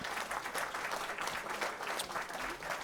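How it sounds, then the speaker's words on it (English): A burst of enthusiastic applause from a crowd, dense clapping sustained for a few seconds without pause. "There's your applause."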